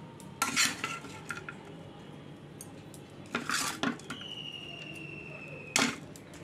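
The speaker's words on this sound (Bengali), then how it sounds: "তো চলো মেয়েকে একটু চিড়ার পোলাওটা দিয়ে দিই, টিফিনটা প্যাক করে দিই মেয়েকে" Chira pulao being spooned into a tiffin box, with clinks and scrapes of a spoon against metal at close range in three short clusters, then a faint ringing tone and quiet background.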